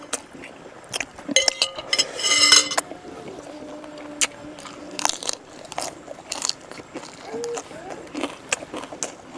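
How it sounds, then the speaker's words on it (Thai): Crunchy som tam papaya salad with fermented fish sauce being eaten alongside steamed rice, giving several close, sharp bites and chewing crunches with some clatter, louder in a burst early on, then quieter chewing. "มากินส้มตำด้วยกันเลยครับกินกับข้าวสวยนะครับ"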